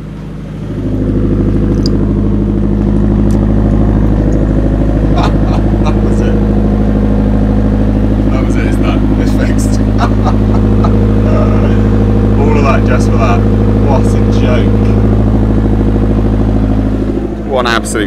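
A Nissan Pulsar GTiR with a faulty brake pedal switch idles steadily and loudly right up close, its constant low engine drone running throughout while people talk over it.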